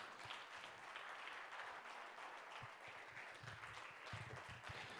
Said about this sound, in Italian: Glielo facciamo un grosso applauso perché è emozionatissima.